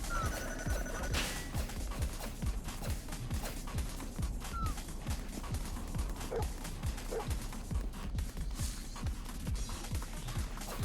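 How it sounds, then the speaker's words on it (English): Dogs in the PS3 game Tokyo Jungle bark in rapid, repeated yips over a steady stream of game sound effects and music, loud and continuous, with occasional chatter from players. "Oh god, the dogs!"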